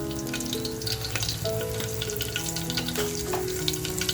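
Asafoetida and garlic sizzle steadily in hot oil for a mutton masala, a close, continuous crackling fry with faint stirring and no talk.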